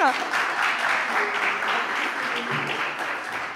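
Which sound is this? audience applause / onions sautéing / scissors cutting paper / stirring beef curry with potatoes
audience applause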